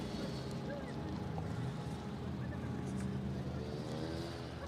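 Race car number 57 pulls away on a short oval track at a Chevrolet and Ford-sponsored race event, its engine a constant loud, droning roar blended with other cars' engines and crowd noise throughout.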